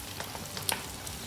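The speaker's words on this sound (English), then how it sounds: "I'm sure you can hear the sound of that sizzle." Onions frying in a pan for chicken karahi, a soft, steady sizzle with faint crackles and one brief sharper pop, quiet and close.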